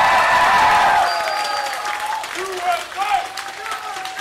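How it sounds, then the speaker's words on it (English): Esports crowd at the Lone Star Clash StarCraft event cheering loudly, a broad roar that fades into scattered shouts and chanting, with a caster's voice over it. "The USA chants resonate from the breaking crowd."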